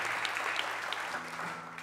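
A theater audience at Teatro do Sesc Pompeia applauds a guest at a tribute concert, a steady, moderately faint wash of clapping with a low held tone underneath.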